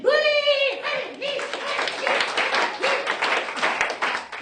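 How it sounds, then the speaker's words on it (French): An audience applauds a ventriloquist's psychopath puppet character named Freddy on a French stage show, a dense burst of clapping that starts under a voice and continues strongly to the end. "je vous demande d'applaudir"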